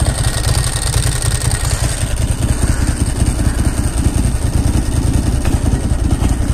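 A Ducati Monster motorcycle engine hums steadily with a low, pulsing throb and faint mechanical clatter, ridden through city streets between Brooklyn and Manhattan, loud and close with no voices over it.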